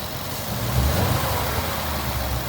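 A Ford Mustang GT engine with a cracked radiator runs steadily and rises a little in revs partway through, a continuous close mechanical drone with no speech.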